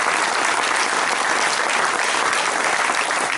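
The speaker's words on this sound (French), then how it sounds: "j'aimerais que vous applaudissiez" Dense, sustained applause from a theatre audience after a show, a loud continuous wash of many hands clapping with no pauses for the whole stretch.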